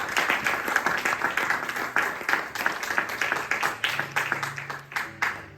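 A church congregation claps and cheers in joyful applause, a dense, steady stretch of many hands beating together at close range with a few voices mixed in, fading slightly toward the end.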